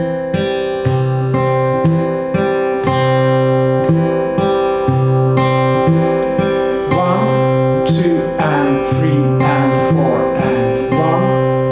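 Steel-string acoustic guitar played in a folk and country fingerpicking pattern with an added index-finger pluck at the end of each cycle: steady, evenly spaced plucked notes over repeating bass notes, close and clear, with no talking.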